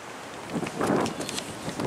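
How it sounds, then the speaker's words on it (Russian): Strong wind gusts rush past outdoors on a city square, swelling in the middle with faint rustling and buffeting against the microphone, with no voices. "Вон какой ветер сильный."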